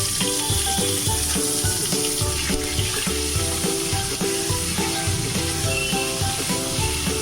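Pointed gourd pieces fry in oil seasoned with fennel and black cumin, giving a steady dense sizzle with soft rhythmic stirring scrapes throughout.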